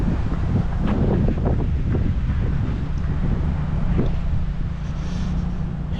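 Strong outdoor wind buffets the microphone during a walking tour of Shelbyville, Tennessee, a loud continuous low rumble with gusty surges throughout and no talking.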